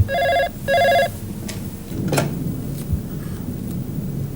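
An office telephone rings in two loud, even bursts of electronic trilling, each about half a second long, then stops, leaving a low background rumble.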